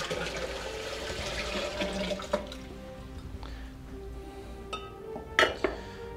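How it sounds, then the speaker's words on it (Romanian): Water from several sources, including the Sea of Galilee and the Pool of Siloam, is poured and mixed in a vessel, an early splashing pour followed by quieter trickles and scattered clinks of containers. "Cele șapte ape eu voi amesteca."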